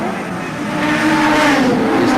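Touring cars from the 1990 Australian championship race at Lakeside circuit, several engines roaring together and building in volume as the pack approaches, loud and close throughout.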